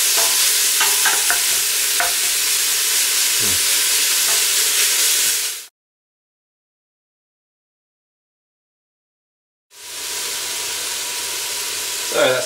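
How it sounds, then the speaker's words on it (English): Lamb pieces sear in a hot pan for a tagine, giving a loud, continuous sizzle broken by spoon stirs, then cutting to silence before the sizzle resumes. "So just sealing off the meat."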